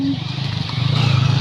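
A Honda motorcycle rides past, its engine a steady buzzing drone that grows louder and rougher toward the end, close by with no talk over it.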